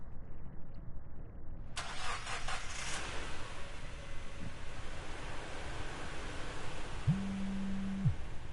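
A car engine in the video game Three Fourths Home, set in Nebraska, cranks into life with a sudden broadband burst, then settles into a steady, fairly loud idle rumble under a constant wash of ambient noise.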